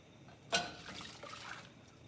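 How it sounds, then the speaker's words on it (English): Cup of water poured into a crockpot, a brief soft splash and gentle trickle at low volume. "I'm going to just put a cup of water in."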